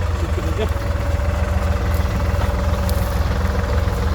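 A New Holland T480 S tractor's diesel engine idles with a steady low, throbbing chug, close and loud, running continuously with faint background noise.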